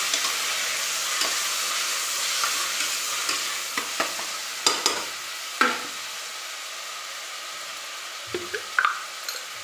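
Onions and tomatoes fry in a pan under a steady broad hiss of sizzling, with occasional sharp stirring scrapes and taps that grow a little more frequent toward the end.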